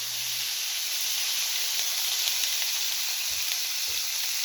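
Steady, loud sizzle as stuffed bell peppers are set down on a hot Steelmade USA flat top griddle, a continuous hiss throughout with a couple of soft low thumps near the end.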